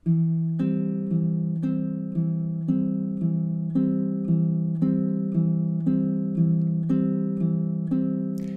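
Baritone ukulele picked fingerstyle in a steady repeating pattern over two chords, each bass note starting a group of plucked strings at an even pace, clear and close with no voices.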